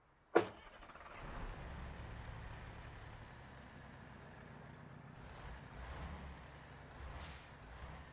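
The Chevy Bison truck in a video game starts with a sharp click, then its engine rises into a low, steady idle that holds quietly with slight swells.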